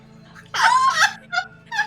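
A cat in a horror video game meows, one longer close-up cry followed by two short, softer mews over a quiet low hum.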